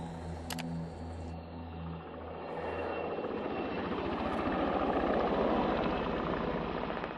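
A heli-logging helicopter's rotor chop grows louder and closer, a rapid rhythmic thudding with engine whine that builds and stays strong.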